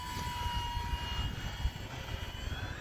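An E-flite Commander MPD radio-controlled model plane flies at about half throttle with half flap, its steady motor whine continuous and moderately distant against wind noise, with no talk.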